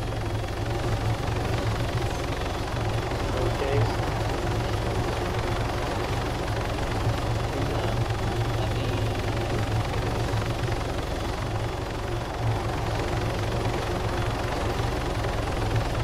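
A helicopter in the Arma 3 video game flies steadily with a loud, continuous rotor and engine drone, holding at a constant level with no talk over it.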